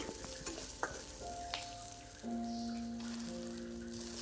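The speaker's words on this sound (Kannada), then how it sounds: "ಅದೇ ಬಾಣಲೆಗೆ ಒಂದು ಸ್ವಲ್ಪ ಎಣ್ಣೆ ಹಾಕಿ ಈರುಳ್ಳಿ ಮತ್ತು ಹಸಿಮೆಣ್ಸಿನ್ಕಾಯಿ, ಒಂದು ಬೆಳ್ಳುಳ್ಳಿ ಪಲ್ಕ ಒಂದೆರಡು ಹಾಕ್ಕೊಂಡು ಹುರ್ಕೊಳ್ರಿ" Onion, green chili and a couple of garlic cloves fry in a little oil in a pan, a steady moderate sizzle with a few utensil taps, close and without voices.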